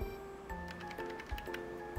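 Keys clatter on a Logitech K480 Bluetooth keyboard paired with an iPad, a quick run of light, crisp clicks close up over a faint steady background hum, with no talk.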